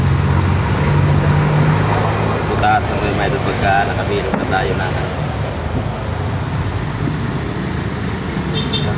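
Trucks and other traffic rumble past at a roadside, a continuous loud engine-and-tyre roar that swells and fades, with someone talking over the noise.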